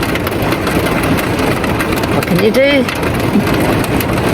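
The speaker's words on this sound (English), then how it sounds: "didn't realise it was going to rain this heavy" Heavy rain drumming steadily on a van during a stormy night camping north toward Yeppoon, a loud dense roar filling the whole clip, with a person speaking briefly over it.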